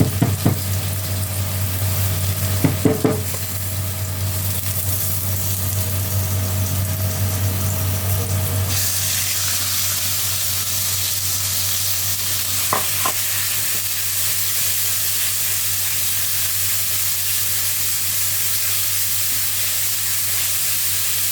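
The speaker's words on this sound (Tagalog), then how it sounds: "So, igisa muna natin yung ating karne." Beef sautéing in a hot pan for a Filipino Baguio beans dish, a loud continuous sizzle with occasional scraping stirs, the hiss shifting in tone partway through, with no talking.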